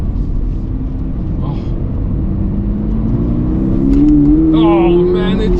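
A 2023 Toyota GR86 sports car drives around a track, its engine a steady loud drone that climbs in pitch as it accelerates, heard from inside the car.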